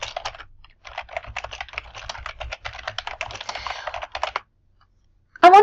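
Quick, steady typing on a computer keyboard while filling out a form, close and crisp with rapid clicking keystrokes for about four seconds, then a pause and a brief louder sound at the end.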